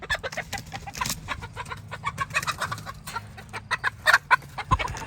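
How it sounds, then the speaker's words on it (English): A miniature Bantam rooster, a Pekin Frizzle and Seabright cross, clucks in a rapid run of short, close notes on a homestead in Flora Vista, New Mexico. Other birds call faintly around it. "here we got a little miniature Bantam rooster."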